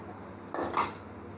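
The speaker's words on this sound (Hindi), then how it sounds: "ये राइस को इस तरह फैला लेंगे हम चम्मच के साथ" A spoon scrapes and spreads cooked rice across a pot while layering an egg dum biryani, a short soft scraping burst of about half a second rising over a quiet kitchen background.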